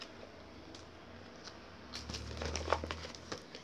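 Paper envelope sealed with adhesive tape being unwrapped, close up: soft crinkling at first, then sharper tearing and rustling bursts growing louder toward the end.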